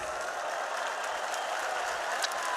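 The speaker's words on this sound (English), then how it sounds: "a nice warm round of applause" A warm round of audience applause at an esports tournament, the PGL Counter-Strike Major in Kraków 2017, steady and fairly loud, many hands clapping together without any voices on top.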